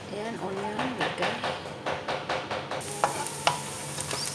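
Onion goes into hot oil in a pan while kofta is being cooked, giving a rhythmic series of stirring scrapes and soft sizzling, followed by a brighter burst of frying hiss with a couple of utensil clicks.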